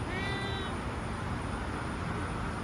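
Cat meowing a few short times near a roadside rest stop during a Super Cub motorcycle trip, faint against steady traffic and wind noise.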